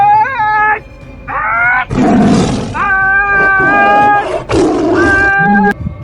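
Loud, roaring bursts imitating a tiger, alternating with wavering, drawn-out tonal cries, close and forceful, in a desi comedy sketch.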